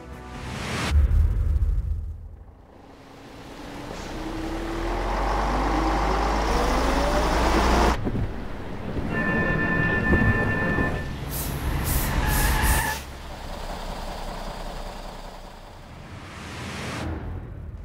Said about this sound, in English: the system will automatically set in, starting with a pre-brake, followed by a full braking power.